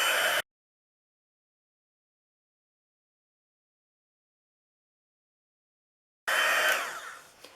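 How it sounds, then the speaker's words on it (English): A craft heat tool blasts hot air over embossing powder on paper, a loud, steady blowing roar at the start that cuts off abruptly, then long silence before the same roar starts again near the end. "we're going to use our heat tool"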